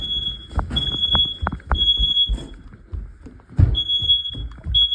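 A smoke detector sounds during a test, a piercing high electronic tone held for long stretches, cut off and then returning, with loud knocks and handling thumps between the tones and no speech.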